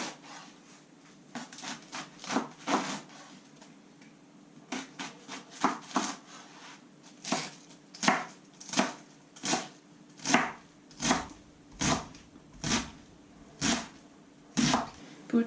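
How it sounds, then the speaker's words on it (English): A knife chops cabbage into roughly 1-inch pieces on a cutting board, with sharp thuds first in quick irregular bursts, then a steady, evenly spaced rhythm, close and fairly loud. "I'm going to chop my cabbage in about 1-inch pieces"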